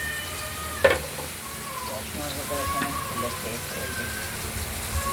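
Boal fish sizzling and crackling in hot oil in a pan, a steady close frying hiss with a sharp clatter near the start.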